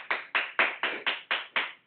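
Hand claps, eight crisp evenly spaced claps in a steady quick rhythm, close and clear with nothing else around them.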